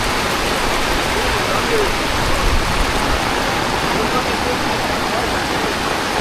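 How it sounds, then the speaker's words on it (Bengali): Steady heavy rain falling at a Kochukhet cattle market, a dense continuous hiss filling the whole stretch at close range, with faint voices beneath it. "পানি পড়তেছে"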